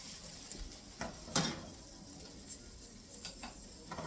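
Pork chops sauté in a pan with a soft, steady sizzle, broken by a few sharp clicks and scrapes of a utensil against the pan.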